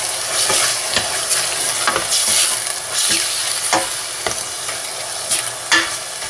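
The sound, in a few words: beef frying and being stirred in a pan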